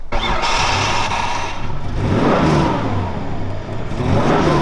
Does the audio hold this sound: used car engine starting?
yes